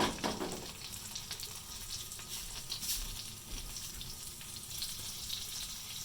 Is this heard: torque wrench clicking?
no